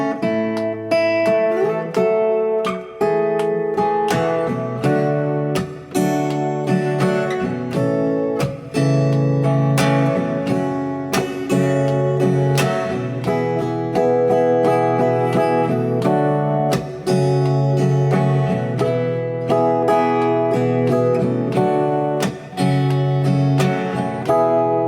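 Guitar strums the chorus chord progression of a song, ringing chords in a steady repeating pattern with bright picked accents, close and continuous with no voices.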